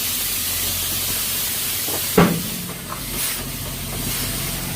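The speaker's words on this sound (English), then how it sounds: "She's going to drop the airbags. Might get a little noisy." Semi truck air suspension deflating as the airbags drop: a steady hiss of air escaping, with a sharp pneumatic burst midway and a few softer clunks and puffs afterward.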